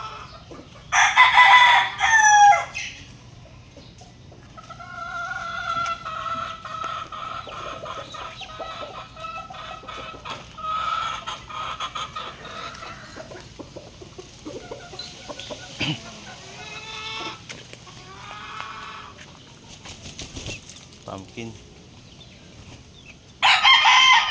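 A stag rooster crows close by in two loud, ringing calls, one at the start and one at the very end, with softer clucking and farmyard murmur in between.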